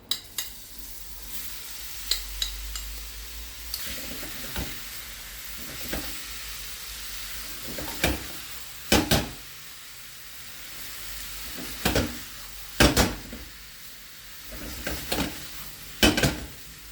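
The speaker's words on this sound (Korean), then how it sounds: "이제 준비한 사과를 넣고 잘 섞어줍니다." Apple pieces cook in buttery caramel in a pan for apple strudel, a low, steady sizzle punctuated by roughly a dozen sharp scraping and clacking stirs at irregular intervals, close up.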